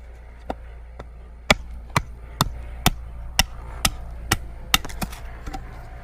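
A wooden board about half to three-quarters of an inch thick is notched with a blade, giving about ten sharp, evenly spaced chopping knocks, close and loud, after a few lighter taps.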